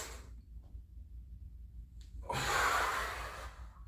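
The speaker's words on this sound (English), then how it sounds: "Exhale when I come up." Before a deadlift, a man over fifty takes a slow, close breath through the nose, then lets out a long, loud, airy exhale after a quiet pause.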